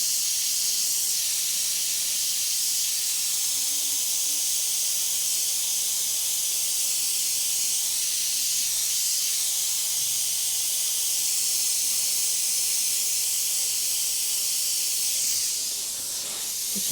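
An airbrush sprays paint in a continuous, steady high hiss that runs unbroken for the whole stretch, close and fairly loud, easing off briefly near the end.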